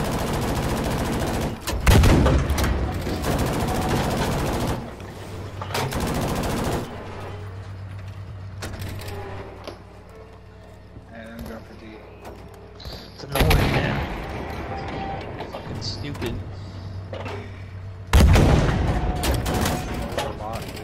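Bursts of automatic and single-shot gunfire rattle through a Battlefield V multiplayer battle, loud volleys clustering early, mid-clip and near the end with quieter gaps and distant shots between, while a player talks at times.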